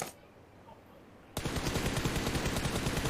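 Loud, dense burst of rapid automatic gunfire in PUBG Mobile kicks in suddenly after a quieter stretch and continues steadily to the end.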